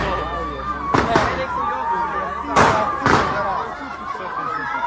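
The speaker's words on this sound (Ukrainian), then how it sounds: "Все постріли" Gunshots crack at night during unrest in Vynohradiv, about four sharp bangs in two quick pairs, loud and near, while people talk and shout around them.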